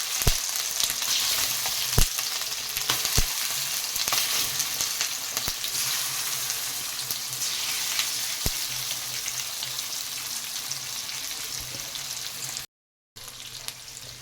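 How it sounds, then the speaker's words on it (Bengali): Fish fries in hot oil with a steady, close sizzle that goes on throughout, with occasional sharp clicks and no talking. "এবারে মাছগুলো দিয়ে দেবো"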